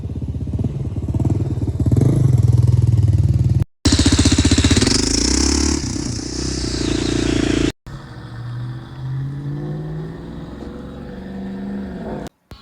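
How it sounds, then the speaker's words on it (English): A Yamaha Raptor 660 ATV engine runs loud and close, revving and idling with a rough, rapid chattering rattle, cut by brief dropouts before settling into a steadier idle. "it does make a chattering noise at high loads"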